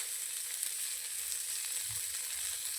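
Whole spices and dry red chillies tempering in hot oil give a steady, close sizzle and crackle with occasional small pops, continuous throughout.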